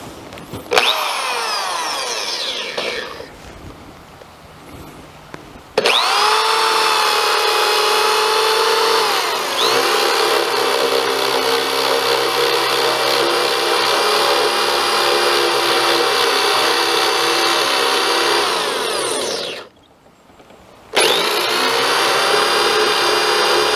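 A power drill fitted with a 1¼-inch bit bores a hole into a log for a cabin build, whining loudly and steadily in long runs with brief stops.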